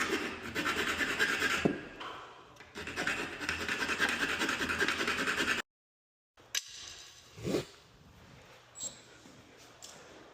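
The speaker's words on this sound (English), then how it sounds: "And I can file it down to make it look real nice and neat." Metal file rasping back and forth on a door strike plate during a small strike installation, close and steady in two long bursts, then a pause and a few short scrapes and taps.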